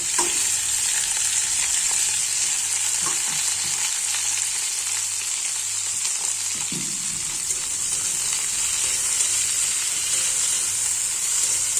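Chopped onion and okra fry in a pan, giving a continuous bright sizzle up close with occasional stirring scrapes and clinks.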